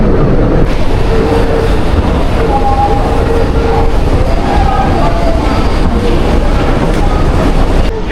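A metro train in a Seoul station: a loud, continuous rumble of wheels and carriages fills the space, with faint tonal squeals rising intermittently above the roar.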